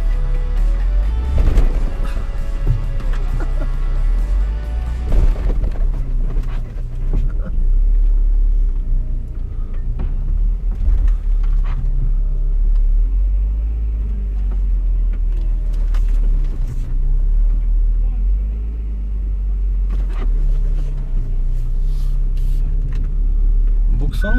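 A UAZ Bukhanka van parks off-road on an icy mountain lot, its engine rumbling low and steady with occasional revs and knocks, close by throughout while people talk over it.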